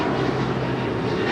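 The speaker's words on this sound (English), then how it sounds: "1779 departing to Miami, Florida on an A321 Neo" Steady, dense engine roar from an American Airlines Airbus A321neo departing LAX for Miami, loud and continuous across the short stretch with no voices.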